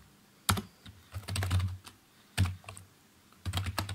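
Keystrokes on a computer keyboard while Python dictionary code is entered, coming in irregular short bursts of clicky taps separated by brief pauses, close and fairly quiet.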